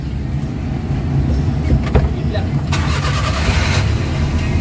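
A Suzuki Transformer with a K6A engine is cranked and started while a replacement oxygen sensor is being checked; a short starter whir leads into a broadband catch and a steady running engine, heard close up with talk nearby.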